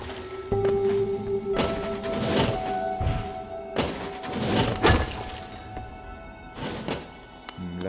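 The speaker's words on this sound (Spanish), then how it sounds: "estas disparaban los crecimientos estos de cristales, que los puedo romper también" Crystal growths breaking apart in the video game Hollow Knight, a series of sharp glassy shattering crashes and thuds spread across the stretch, loud over a steady game music bed.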